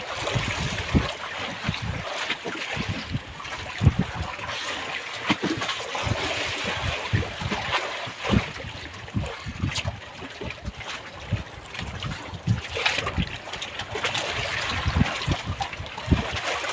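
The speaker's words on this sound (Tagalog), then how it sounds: "Laking alon." Rough sea with big waves slapping against a small boat, heard as continuous broadband wash with gusty wind buffeting the microphone and irregular thumps from the hull throughout.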